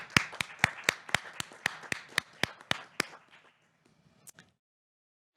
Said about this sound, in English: I'd love it if you'd give them a round of applause.